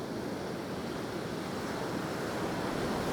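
Ocean surf rolls in during Hurricane Idalia at Marco Island's South Beach, with waves of about five feet. It makes a constant broad roar mixed with wind buffeting the microphone, steady and loud without pause.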